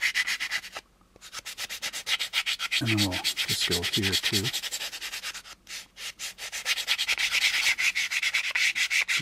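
Steady back-and-forth rasping of a sanding block on the plastic secondary hull of an AMT U.S.S. Enterprise model kit, continuous strokes throughout, with a brief voice speaking partway through.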